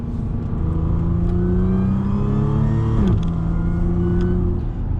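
Audi A4/S4 engine pulling through the gears on a first drive, a steady mid-pitched drone that climbs in pitch, drops at a shift around the three-second mark, then climbs again, heard close and constant from inside the car.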